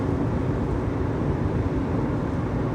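A truck approaching on a Georgia highway, heard from inside a moving car as a loud, steady low rumble of engine and road noise with no distinct pass-by peak and no talking.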